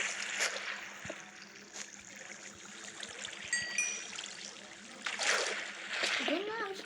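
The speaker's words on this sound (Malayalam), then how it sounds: "ഈ വെള്ളം മൊത്തം കളയാം" Water is poured out and drained away in a steady splashing, trickling rush that swells near the end, with a voice talking over it.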